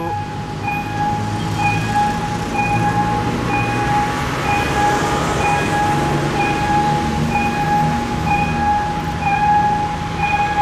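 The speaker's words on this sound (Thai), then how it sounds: "อีกขบวนหนึ่งก็คือขบวน 2 3 4" Thai railway train no. 234 passing a road crossing, a loud steady rumble of rolling wagons with sustained ringing tones from the crossing signal throughout, close and continuous.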